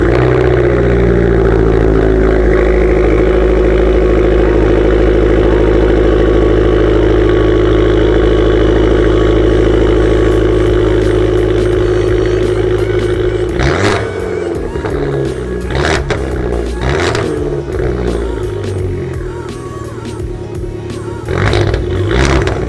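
Fiat 500 engine with a catless downpipe, running loud and close with a deep, rumbling idle, then a stretch of sharp revs and pops in the second half.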